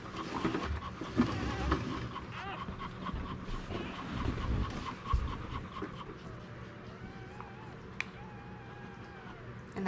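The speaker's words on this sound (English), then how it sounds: "And that heavy breathing continues in between each puppy being born." English Springer Spaniel panting heavily and rapidly while giving birth to a large litter, close and continuous, with faint whimpers and background voices at times.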